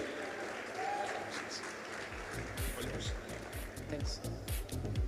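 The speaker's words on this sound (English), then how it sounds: "Big round of applause for Parth Reddy." An audience at a development conference in Nizamabad applauds a student entrepreneur speaker, a quiet, steady wash of clapping that continues throughout under low background noise.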